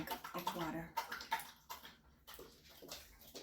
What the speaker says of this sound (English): takes a very loud drink of water